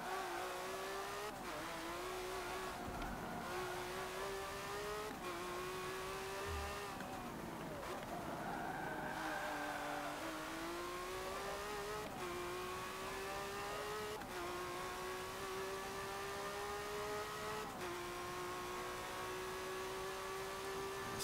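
A 2016 Lamborghini Centenario LP 770-4 engine in Forza Motorsport 7 screams steadily at high revs, its pitch climbing through several gears with brief dips at each shift, loud and continuous throughout.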